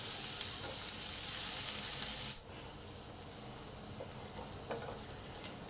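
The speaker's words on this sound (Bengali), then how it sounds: "রসুনটা ভালো করে ভাজা হয়েছে, পেঁয়াজ কুচিটা দিয়ে দিলাম। পেঁয়াজটাও ভালো করে লাল লাল করে ভেজে নেব।" Chopped onion sizzling in hot oil in a pan with fried garlic and chilli, a steady close hiss that drops suddenly to a softer crackle after a stir, with no talk.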